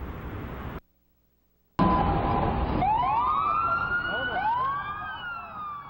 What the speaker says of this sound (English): The sound of sirens can bring up many emotions.